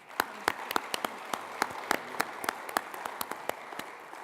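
Applause from a business competition audience for a finalist, with scattered sharp claps at a moderate level that keep going without talk over them.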